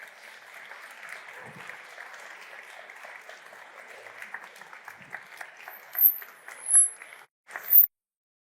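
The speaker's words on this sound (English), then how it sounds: "Big applause for Roland." An audience at a Barcelona startup pitch competition final applauds an award winner called to the stage, a soft, steady patter of clapping, fairly distant, ending in a few louder bumps and shrill electronic tones.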